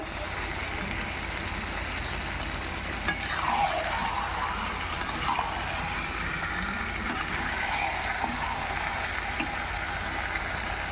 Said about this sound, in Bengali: চিকেন কষা হচ্ছে